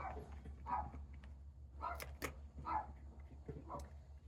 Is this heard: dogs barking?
yes